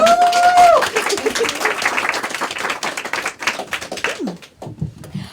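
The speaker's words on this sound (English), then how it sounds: "Give her a nice round of applause." Audience applause breaks out as a presenter is handed the stage, a dense patter of clapping hands that thins and scatters toward the end, with a brief tone near the start.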